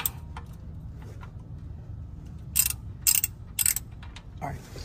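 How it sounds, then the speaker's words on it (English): Socket wrench with a 13mm socket loosening the oil pan bolt under a Jeep Wrangler, giving a few brief clicking ratchet bursts, close and fairly quiet, over a faint background hum. "remove this little bolt on the oil pan, and you're going to be using a 13mm socket with the wrench"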